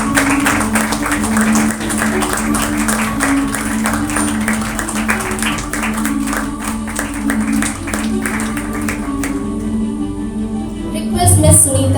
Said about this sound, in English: A thunderous applause.